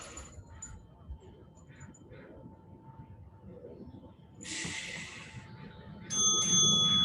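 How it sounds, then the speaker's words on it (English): A workout interval bell rings out loud and sharp near the end, a bright sustained chime rising over background music and breathing after an earlier burst of noisy sound. "Work through this bell"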